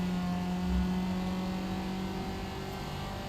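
A race car engine in the Forza Motorsport video game holds a steady high drone, a constant whirring hum that stays close and even for a few seconds, with no talk over it.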